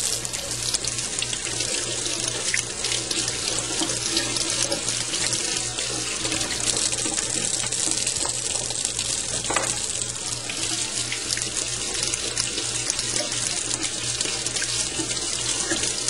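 Water pours steadily from a tap into a sink, a constant close splashing rush that continues throughout with faint clinks of resin kit pieces being rinsed.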